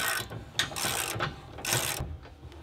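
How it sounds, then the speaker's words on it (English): Half-inch socket ratchet turning a bolt on an Andersen weight distributing hitch, several quick rasping clicks in bursts, close and clear with no voices. "take a half inch socket that fits in the end of that, and we're going to go ahead and give this 3 to 4 more rotations"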